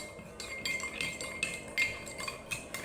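A spoon stirs a homemade lemon soda in a glass, giving a run of light, irregular clinks and taps against the glass at close range, with no talking.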